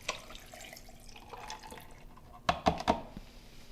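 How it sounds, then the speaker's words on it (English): Faint watermelon juice trickles and splashes into a cocktail shaker, ending in a few brief, louder glugs near the end. "I've got my 6 ounces of watermelon that I will pour into my shaker"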